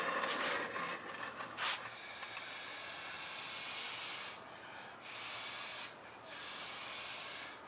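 Breath blown through a straw onto fluid acrylic paint on canvas makes close, airy hissing puffs, a long blow followed by several shorter bursts separated by brief pauses.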